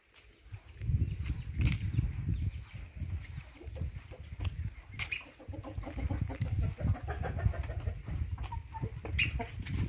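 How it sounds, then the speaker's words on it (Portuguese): Chickens cluck steadily inside a farm henhouse where sick chicks are shut in, a busy mix of close, soft clucks and short calls with no talking. "Ele fechou uns pintinhos ali no galinheiro, né?"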